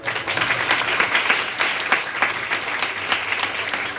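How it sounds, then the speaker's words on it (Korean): A seated audience breaks into sustained, even applause to welcome the committee chairs at a mock UN conference opening ceremony, with the clapping steady and full from start to finish. "의장단이 여러분께 인사드릴 때 모두 큰 박수로 환영해 주시면 감사하겠습니다"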